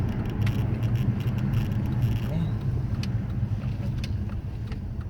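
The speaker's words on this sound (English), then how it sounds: "You can literally see that the car's got such a nice little rumble to it, but it's not loud" A Nissan Cima's engine gives a low, steady rumble at close range, not loud, with faint road noise; a person briefly speaks over it.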